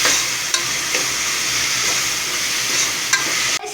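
Ginger-garlic paste and salt being stirred into frying egg curry, with a continuous loud sizzle and a few distinct spoon scrapes against the pan, no voices.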